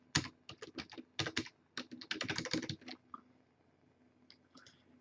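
Bursts of typing on a computer keyboard while entering an email address, with rapid clustered key clicks in several runs, then a near-silent pause and a few isolated taps at the end.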